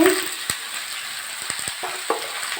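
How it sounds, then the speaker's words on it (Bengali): Vegetables sizzle as they fry in a pan for a spinach chorchori, with a steady hiss broken by several clicks of a utensil stirring against the pan. "আমি তরকারিটা ভালো করে চড়ে হাফ ভাজা করে নিচ্ছি"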